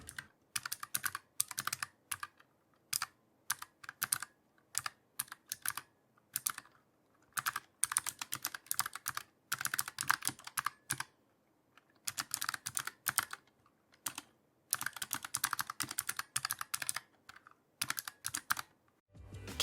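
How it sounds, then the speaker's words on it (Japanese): Clicky keystrokes on a mechanical keyboard rated at 45 g actuation force come in rapid, irregular bursts with short pauses, close and crisp with no talking. "カチッとした打鍵音はもちろんですが、大加圧である 45g を超えた瞬間に打鍵されて跳ね返るので爽快な感じです。"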